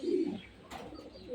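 Pigeons on a breeder's farm give a short low coo near the start, then fainter chirps over a steady background hum, with no voices.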